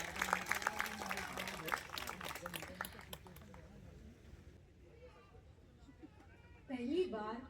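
Audience at a poetry book launch gives a short burst of applause, clapping loudly for a few seconds before it fades into quiet room murmur, with someone speaking over it.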